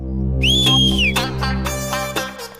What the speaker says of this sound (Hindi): सीटी मार रहा हूँ।